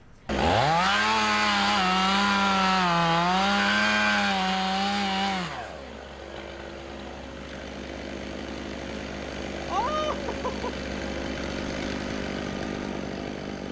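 A chainsaw roars loudly for several seconds, its pitch wavering as it bites into a rotten tree, then drops to a lower idle rumble with faint background noise.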